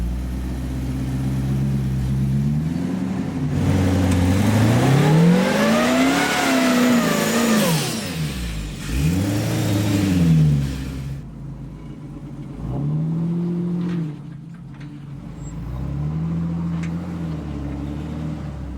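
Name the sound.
rock crawler engine revving while climbing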